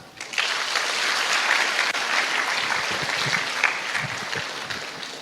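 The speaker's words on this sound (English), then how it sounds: "You don't want to clap to her?" Audience applause filling a lecture hall during a guest talk, dense steady clapping from many hands that builds quickly and holds, fairly close, with no talk.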